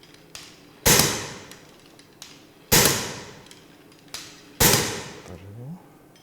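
Three heavy hammer drops on a laboratory dynamic cone penetrometer, each a sharp loud metallic impact with a ringing decay, spaced about two seconds apart, with lighter taps between them.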